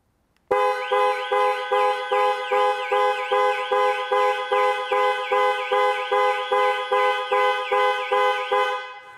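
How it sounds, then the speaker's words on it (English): Jaguar I-PACE panic alarm sounding the car horn in steady repeated pulses, about twenty loud honks in a regular rhythm, close by with no talking. "The final button is a panic alarm. Press for 3 seconds or press 3 times in 3 seconds and the horn will sound"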